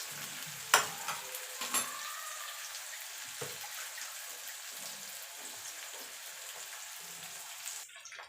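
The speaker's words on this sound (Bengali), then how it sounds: "পেঁয়াজটাকে একটুখানি ভাজা ভাজা করে নেব।" Chopped onion fries in oil in a pan, giving a steady, moderately quiet sizzle with a few sharp utensil clinks near the start.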